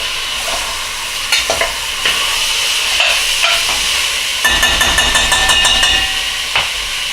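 Pureed garlic, about a tablespoon, sizzles and hisses steadily in a hot pan while being stirred, with scraping spoon strokes and a brighter crackling burst midway; close and continuous, no talking.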